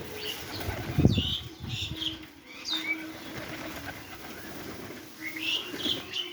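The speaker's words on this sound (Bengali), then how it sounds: "কবুতরগুলো দেখেন কত সুন্দর করে তাদের খাওয়া দাওয়া করছে" Pigeons being fed broken rice coo softly and flap their wings in short bursts, with scattered chirps over a low outdoor background and no speech.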